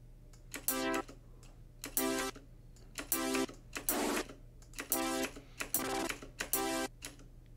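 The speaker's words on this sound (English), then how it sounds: "Sorry for all the clicking and clacking of my keyboard." A computer keyboard clicks and clacks in regular bursts of fast keystrokes, about seven close, crisp clusters separated by brief pauses, over a low steady hum.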